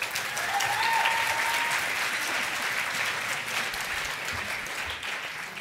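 Sustained audience applause at an oratorical competition event, a broad, even wash of many hands clapping that holds steady throughout, with a brief whistle-like tone early on.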